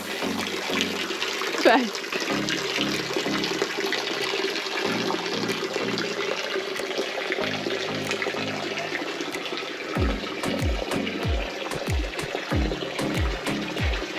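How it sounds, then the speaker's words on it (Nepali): Water runs steadily from a pipe at a stone water spout at a Bajrayogini temple, a constant splashing rush with a motorcycle engine idling and revving in bursts over it; a person talks at times. "ढुङ्गे धारामा पानी पाइपबाट आइरहेछ"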